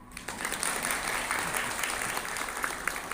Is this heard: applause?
yes